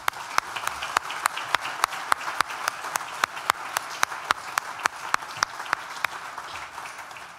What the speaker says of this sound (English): please join me in a round of applause to celebrate all the achievements that we've had in the last year